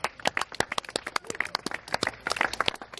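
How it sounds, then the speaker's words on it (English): A small group applauds outdoors after a delivery drone touches down on the roof of a Mercedes-Benz van during a test in Zurich; brisk, scattered hand claps close by, lasting a few seconds. "Landed, your applause, please."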